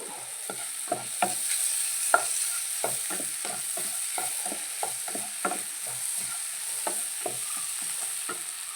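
Curry leaves crackle and sizzle in hot oil in a pan for a tomato curry, a steady frying hiss under a run of sharp pops and light stirring scrapes, close and without talk.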